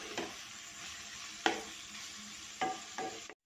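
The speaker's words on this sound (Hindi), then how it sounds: "अब इसमें हम ऐड कर देंगे अपने परवल, और मसाले में अच्छे से इन्हें मिक्स करेंगे।" Pointed gourd (parwal) being stirred into frying masala in a pan, with a few distinct stirring scrapes and clacks over a low sizzle, close and moderately loud.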